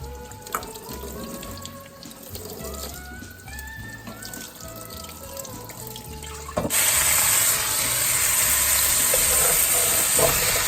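A kitchen tap gushes steadily, with chopped potatoes rinsed and rattled under it, a soft background hum at first, then the water surges to a loud, continuous close splash.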